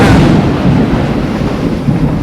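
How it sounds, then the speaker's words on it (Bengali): A loud, deep thunder rumble rolls continuously, close and heavy, during a Kalbaishakhi storm in a village, with rain hissing beneath it. "কীরকম বাজ পড়ছে, বিদ্যুৎ চমকাচ্ছে"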